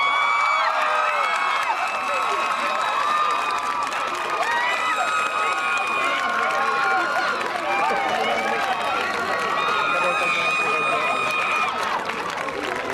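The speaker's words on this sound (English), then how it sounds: "I will ask our graduates to show their appreciation to you by giving their family a well-earned applause." A graduation crowd at a polytechnic ceremony cheers, with many excited voices whooping and shouting over a continuous wash of noise. The sound stays loud and busy throughout, and only light clapping can be made out underneath.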